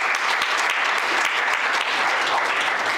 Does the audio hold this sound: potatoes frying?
no